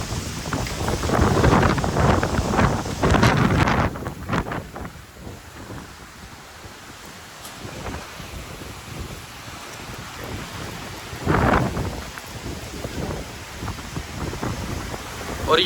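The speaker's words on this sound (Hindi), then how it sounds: "यकदम भाई इतना तेज तूफान आ गया।" A sudden heavy storm sweeps through a date palm orchard in Madina, with strong wind buffeting the microphone and rain roaring in surging gusts, loudest at the start and again near the end, with no clear thunder.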